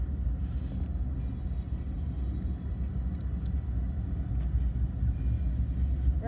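BNSF and CN freight locomotives pass westbound in Flint, Michigan, producing a continuous heavy low rumble that stays steady and loud throughout, with no voices.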